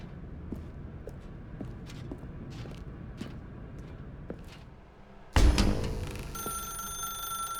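An in-game telephone begins ringing in The Stanley Parable Ultra Deluxe, a bright, loud electronic ring that bursts in suddenly and continues steadily after quiet ambient room tone and a few soft footsteps.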